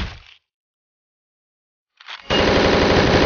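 Gunfire in Hotline Miami 2, a brief burst at the start, then silence, then rapid automatic fire returns loud and continuous to the end.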